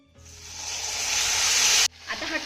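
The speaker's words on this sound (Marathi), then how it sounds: "आता यामध्ये ना आपण एक बारीक चिरलेला टोमॅटो घालूया." Finely chopped tomato dropped into a pan of sautéed garlic, a bright hiss that swells steadily for nearly two seconds, cuts off sharply, then resumes as a softer, crackling sizzle.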